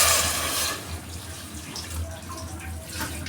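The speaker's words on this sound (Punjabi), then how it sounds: "ਇਹਦੇ ਵਿੱਚ ਆਪਾਂ ਇੱਕ ਕੱਪ ਪਾਣੀ ਦਾ ਪਾ ਦਵਾਂਗੇ" A cup of water splashes into a pan on a gas stove for spicy momo chutney, a brief bright pour at the start, followed by a quieter low hum.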